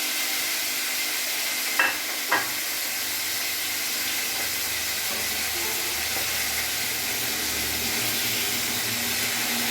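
Pomfret fish frying in oil until reddish-brown: a steady, close hiss of bubbling oil runs throughout, broken by two quick clicks early on.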